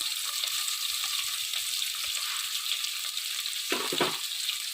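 Big onions sauté in oil in a pressure cooker, making a steady, fairly quiet hiss of frying with one brief stir near the end and no talking.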